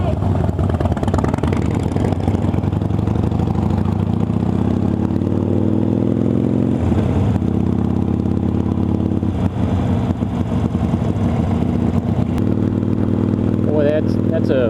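Motorcycles carrying riders to a group ride rumble close by, their engines rising and falling as they pass steadily, while people chat over the noise.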